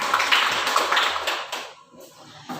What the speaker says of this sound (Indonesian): beri tepuk tangan untuk pahlawan